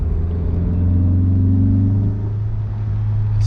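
A Honda S2000's engine while cruising in fourth gear at around 30 to 40 mph, a loud steady low drone with a faint rise and dip in pitch, heard from inside the car with no talking.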